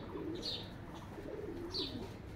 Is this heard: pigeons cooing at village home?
yes